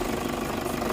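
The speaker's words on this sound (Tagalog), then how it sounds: "Ganda ng andar mga kabady, tahimik ang makina, hindi siya maalog, hindi siya mayanig" A 2007 Toyota Hilux 4x4 with manual transmission idles with its engine running quietly, an even low hum with a faint regular pulse, heard up close and alone.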